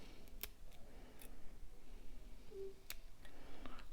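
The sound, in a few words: scissors cutting a fly's stem while tying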